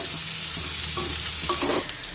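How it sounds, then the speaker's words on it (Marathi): Okra sizzles in oil in a hot kadhai while a spoon scrapes and stirs, with short clinks against the metal. "आता 2 ते 3 मिनिटे ही भेंडी आपण छानपैकी परतून घेऊया।"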